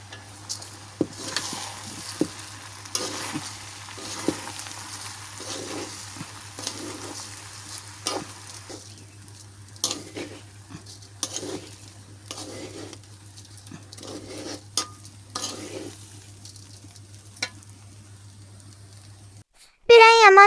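Rice and lentils stir-fried together in a pan for chicken khichuri give a steady sizzle broken by repeated scraping strokes of a spoon, over a constant low hum. The frying fades after a while, and a brief sharp sound closes it.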